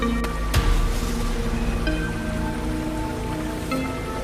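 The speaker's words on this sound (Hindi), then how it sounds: "बारिश तेज होती जा रही है।" Dense, steady rain pours down hard and close, a continuous hiss of drops on surfaces with a sharp knock early on.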